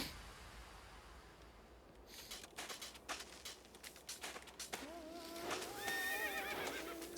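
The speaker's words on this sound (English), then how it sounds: "They do make horse sound." Horses in the Tetris Effect video game whinny several times over scattered clip-clopping hooves, quiet at first and then building into bright overlapping neighs near the end.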